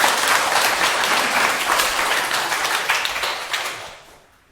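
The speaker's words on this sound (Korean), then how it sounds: "박수 한번 주세요." A lecture-hall audience applauds after a question in a Korean talk, loud and dense clapping that holds steady, then fades out over the last half-second.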